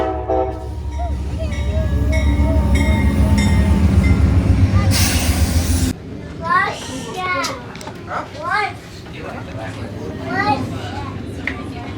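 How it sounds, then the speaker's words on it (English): A ski resort train at Winter Park rumbles in loudly for about six seconds with a sustained roar, then cuts off as children's voices chatter and call out nearby. "This is the only train in the US that brings you directly to the lifts."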